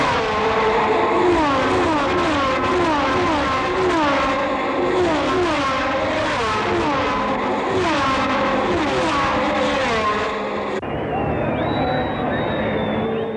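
1970 Formula One race cars scream past at speed on the straight by the pits at the South African Grand Prix, a series of loud overlapping engine notes rising and falling as each car passes, ending in a single fading whine.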